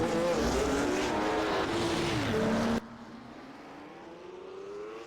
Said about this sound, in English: I think it was probably mainly engine sound.